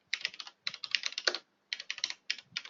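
Brisk clicking of a computer keyboard as someone types an SQL script, coming in quick bursts of keystrokes separated by short pauses, close and fairly quiet with no talking.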